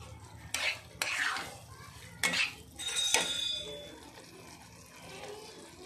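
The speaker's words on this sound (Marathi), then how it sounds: "तो भाजून लाल कलरचा होईपर्यंत छान असा भाजून घ्यायचा मंद गॅसवर" Semolina (rava) being roasted in a pan over a low gas flame, with a few sharp scraping strokes of a spoon against the metal and a soft, steady sizzle between them.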